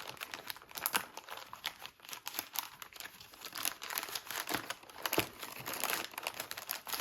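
An MRE flameless heater bag being folded and slid into its cardboard sleeve, giving soft continuous crinkling and crackling of plastic and paper with small irregular bursts, faint and close.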